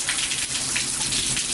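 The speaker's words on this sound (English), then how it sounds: "the only time it likes to rain like this is when it's time to go get" Heavy rain pours down steadily in Texas, a dense, continuous hiss of drops beating on surfaces, loud and close with no voices.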